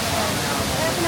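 Ditumabo Mother Falls in San Luis, Aurora, a large waterfall, gives a dense, constant rushing roar that fills the clip close and loud.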